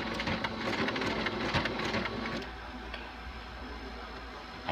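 A sewing machine with an automatic backstitch sews a cloth menstrual pad made from an upcycled baby onesie. It gives a dense, steady mechanical whir up close, with busier ticking at first, then eases to a softer hum.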